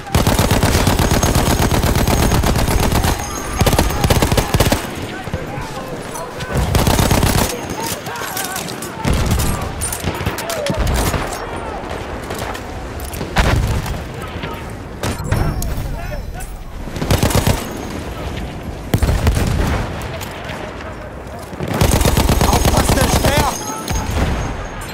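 Sustained machine gun fire and rapid gunshot bursts in Battlefield 1, loud and dense with repeated volleys and brief gaps, mixed with shouted soldier voices in German.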